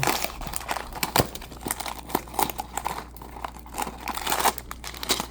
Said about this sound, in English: we'll just finish ripping this open